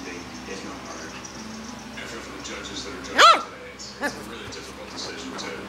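A single sharp, high puppy yip stands out, followed by a fainter second yip, against a low murmur of background sound.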